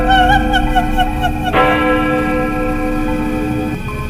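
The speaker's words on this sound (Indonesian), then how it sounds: "lonceng kecil itu berdentang pelan" A small bell strikes once softly with a bright, ringing tone that lingers and slowly fades, over a sustained droning background.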